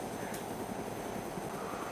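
A helicopter in DayZ, heard as a steady, droning rotor and engine wash that holds a constant level throughout, with a faint brief tick near the start.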